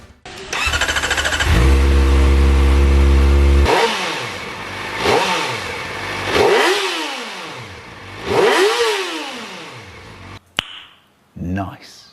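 Kawasaki Ninja ZX4RR 2025 inline four-cylinder sport bike starting, idling steadily, then revved hard in four rising-and-falling high-pitched blips to around 14,000 RPM, loud and close, followed by two short final blips.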